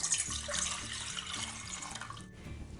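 Three glasses of water are poured into a pot to make syrup for a traditional şekerpare dessert, giving a continuous close splashing stream like a running tap.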